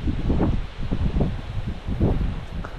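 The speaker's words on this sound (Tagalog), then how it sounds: "Kaso malakas ang hangin ngayon" Strong gusts of wind at Tipuna Beach buffet the microphone in low, irregular surges, rising and falling over steady background rush.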